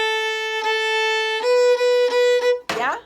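A violin plays a warm-up rhythm, a sustained bowed note followed by a series of shorter repeated bow strokes on the same pitch, close and clear, ending with a brief noisy shift.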